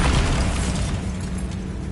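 A Bombarda spell in Hogwarts Legacy goes off as a loud, dense blast, a sustained booming roar that fills the low end and slowly tails off over two seconds.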